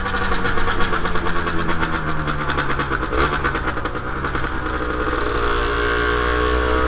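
A 2023 Rieju MRT50 Trophy SM Pro 50cc motorcycle buzzes loudly while riding, its small engine holding a steady high-revving drone with slight pitch shifts, close and continuous.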